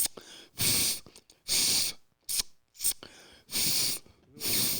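A person vocally imitates a cat, making a string of loud, breathy, hissy bursts with short pauses between them, close to the listener.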